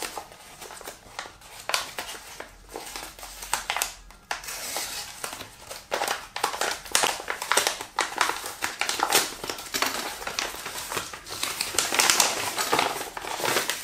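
A replacement optical glass window for a ZWO ASI astronomy camera being unwrapped by hand, with loud, close crinkling and crumpling of packaging in irregular bursts and handling rustles throughout.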